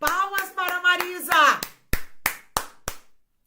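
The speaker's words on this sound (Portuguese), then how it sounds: "Palmas para a Marisa!" A short burst of hand clapping, about six sharp claps in an uneven rhythm, follows a voice speaking, applauding someone named Marisa.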